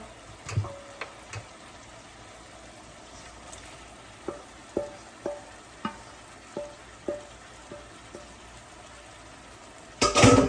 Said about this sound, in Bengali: তারপর যে আমি মাছগুলো দিয়ে দেবো।